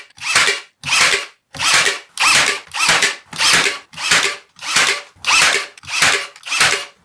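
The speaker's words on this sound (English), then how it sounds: "I'm going to glue them, then brad nail them into position" A brad nailer fires repeatedly while shelf supports are nailed into a wooden bench, ten sharp evenly spaced hissing bursts of air, each followed by a brief pause, close and loud.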